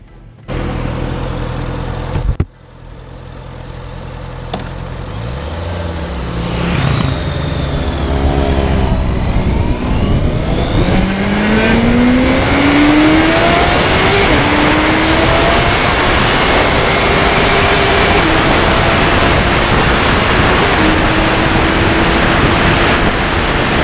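A Honda Megapro with a 649 cc four-cylinder engine and midship underbelly muffler revs loudly and steadily, its exhaust note climbing in pitch through repeated sweeps and holding at a high, sustained roar.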